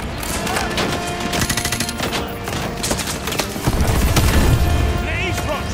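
Dense gunfire in a Call of Duty: Modern Warfare 2 campaign battle, with rapid automatic bursts and single shots rattling continuously. Shouted voices mix in, and a heavier rumble rises toward the end.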